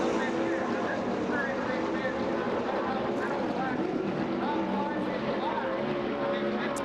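A Kistler Chevy Silver Crown race car, number 9, runs a qualifying lap on the Springfield Mile, with a loud, steady engine roar filling the whole stretch while an announcer talks over it.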